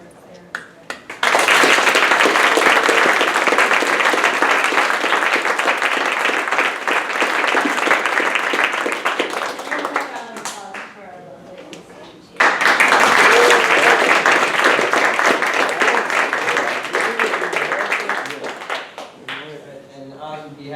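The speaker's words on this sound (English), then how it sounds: "So maybe we give one last sort of round of applause for Tulane, for AIA" An audience gives long, loud applause after an architecture and urban design lecture, in two sustained waves separated by a short lull, with a voice speaking between them and as the second wave fades.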